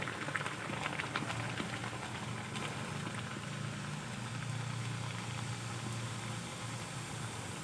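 Semolina snacks deep-frying in hot oil over high gas heat, a steady low bubbling and sizzling hiss that holds at an even, moderate level, close by, with no voices.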